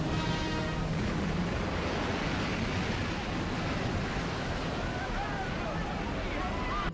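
Roaring surf sound effect from the 1956 film The Ten Commandments: a loud, continuous rushing wash of broadband noise that stays steady throughout, with no clear breaks between waves.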